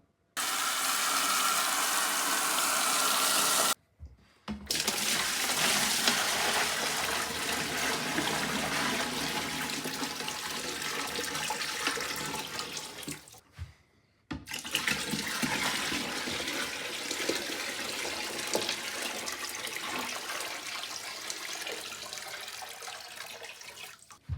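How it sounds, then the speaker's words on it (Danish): Tap water pours loudly into a big bucket being filled for a snail aquarium, a dense continuous rush broken by two brief pauses, close and alone without talk. "Men jeg går ud og henter en stor spand, og så fylder jeg sgu bare."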